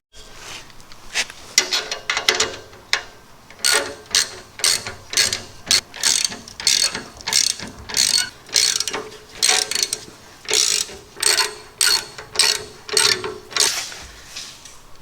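A ratchet clicks steadily as U-bolts are tightened on an M416 military trailer, with repeated close bursts of sharp pawl ticking separated by short pauses.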